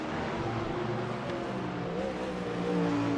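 A GT3 race car, a Ford, pulls away again after running wide through the sand trap at Brands Hatch, its engine a steady mid-distance drone that builds slightly, no voices over it.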